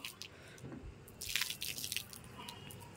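Water drips from freshly washed wet laundry hung out to dry on a rooftop, a quiet run of scattered drips and small splashes with a brief denser patter in the middle, heard alone.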